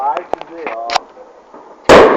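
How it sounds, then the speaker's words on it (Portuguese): A ground-bursting fireworks bomb goes off with a single loud, close blast near the end, just after a voice and a few small pops. "Vai estourar no chão."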